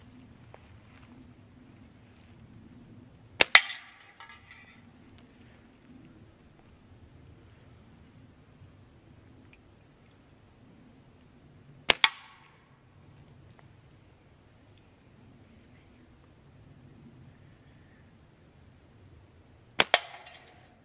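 A slingshot fires shots at outdoor targets such as mushrooms on trees, giving three sharp, loud snaps spaced several seconds apart over a low, steady outdoor hum, with no talk.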